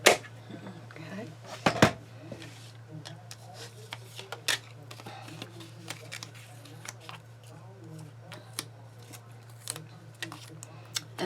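Scissors snipping out a small paper gnome piece for a handmade card, faint irregular clicks and snips close by over a low steady hum, with a sharper rustle near the start.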